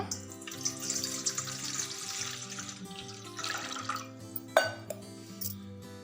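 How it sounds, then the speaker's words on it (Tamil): Water runs and splashes steadily into a cooking pot, with a few clinks of metal or glass near the end. "முதல்ல இந்த பாத்திரத்தில் 1 சொம்பு தண்ணி ஆட் பண்ணிக்கோங்க"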